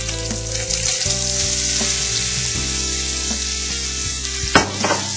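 Zucchini sautéing in olive oil with dissolved anchovies, a loud continuous sizzle with occasional light stirring and a brief clatter near the end, no speech.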